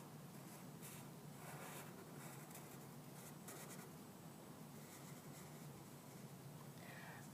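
A Sharpie marker outlining pencil lines on paper, a faint, close scratchy rubbing in short strokes under quiet room noise, with no voices.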